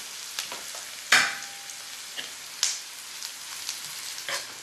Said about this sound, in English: Now I add garlic. Mix it well